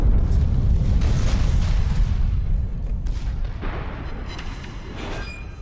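Heavy booming blasts of naval artillery in World of Warships rumble loudly and deep, several thuds rolling into one another before slowly fading toward the end.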